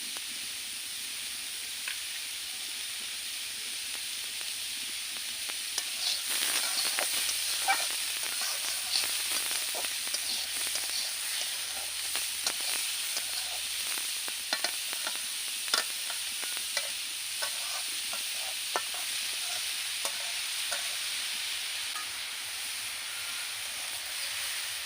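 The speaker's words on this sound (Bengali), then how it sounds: "গাজর ভালো করে একটু ভেজে নিতে হবে" Carrots frying in ghee for a village-style carrot payesh, a steady close sizzle with scattered stirring scrapes and crackles running throughout, no voices.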